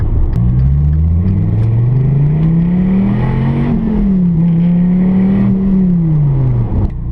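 A loud 2014 Dodge Viper GTS sports car engine drones and revs, its pitch rising and falling smoothly over several seconds, close and continuous without speech.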